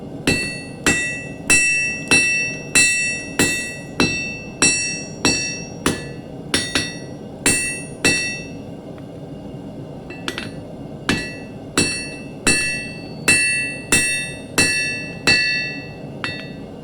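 A hammer strikes a jackhammer bit on an anvil in a steady run of sharp, ringing metallic blows, about two per second with a brief pause midway, close and loud with no talking.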